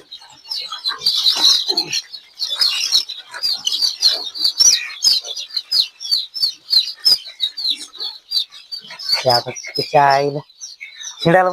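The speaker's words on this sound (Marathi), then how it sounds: "तिथं जे पिल्ले तयार होतात ते पिल्ले इथं ब्रुडिंग साठी इथं ठेवलेले आहेत" Dense chorus of young native chicks peeping continuously inside a poultry brooding shed, loud and close, with a few lower clucks near the end.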